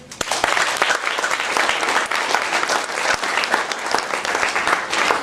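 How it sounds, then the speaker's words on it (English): A warm round of applause from an audience for a speaker at a lecture: dense, loud clapping from many people, sustained and even with a few sharper claps standing out. "We'll give him a warm round of applause."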